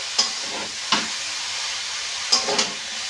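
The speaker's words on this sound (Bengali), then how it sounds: "আলু আর ছোলার সাথে এই কপিটাও বেশ ভালো করে আবার কষে নিতে হবে" Shredded cabbage sautés with potatoes and chickpeas in a pan for a vegetarian cabbage ghonto, giving a steady close sizzle broken by four sharp spatula scrapes and stirs.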